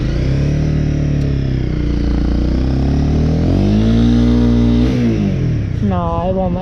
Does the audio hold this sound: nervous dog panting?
no